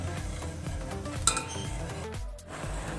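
Sugar and crushed cardamom are stirred in a pan, producing a steady light metallic scraping and occasional clinks of a utensil against the pan, close and moderately quiet.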